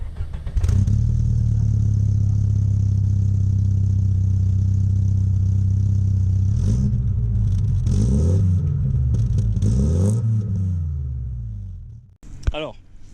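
A Volkswagen Golf 2 GTI G60 engine runs close by, a steady low rumbling idle with a few rising revs and intake roar toward the end before cutting off.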